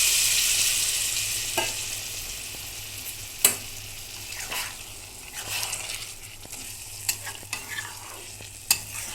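Potatoes and eggplant cooked in spices hiss steadily in a pan as a little water goes in. The sizzle is constant, broken by a few sharp stirring knocks and scrapes, and no one speaks.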